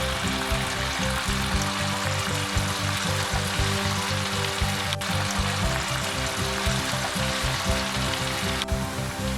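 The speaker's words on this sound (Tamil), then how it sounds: "எண்ணெயில் போட்டு பொரிச்சு எடுத்துக்கோங்க." Cauliflower florets for gobi manchurian frying in hot oil, a steady, dense sizzle with bubbling that holds at an even, fairly loud level from start to finish, with no voices.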